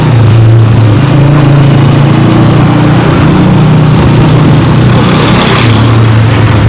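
Steady engine drone from a motorcycle while riding, loud and continuous with wind rush, no pauses or speech.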